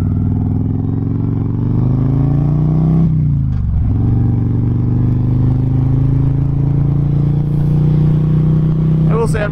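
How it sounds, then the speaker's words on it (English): A 2008 Harley-Davidson Road King with a Twin Cam engine runs loud and steady throughout while being ridden, with a deep low rumble that dips briefly near the middle as it shifts, then settles back into a constant drone. "A good day to be on a motorcycle."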